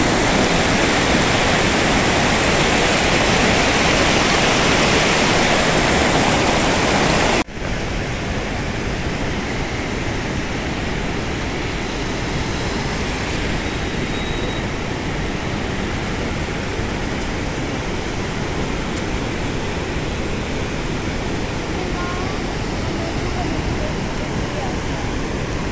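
Låtefossen, the twin waterfall in Odda, Norway, roars as a dense, continuous wall of loud rushing water heard up close, with the roar softening slightly after the first few seconds.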